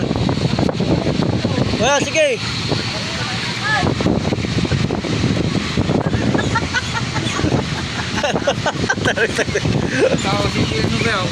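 A loud blower roars steadily outdoors during a harvest, wind-like and constant, while people talk over it nearby.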